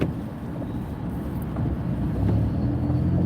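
A diesel vehicle engine in a traffic jam on flooded metro roads, a steady low rumble and drone heard from inside a car, fairly loud and continuous without talk.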